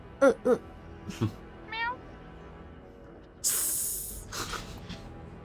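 Cat meowing and hissing in a Weerd Science fantasy adventure episode: a few short, sharp meows and a rising yowl, followed by a loud, sustained hiss and some quieter trailing sounds.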